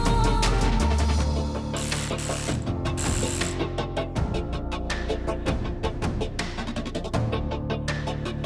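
Mechanical clicking and clattering of tools while the two covers come off the intake cam gears of a Subaru WRX engine during a teardown, steady busy ratchet-like ticks close up with no voices.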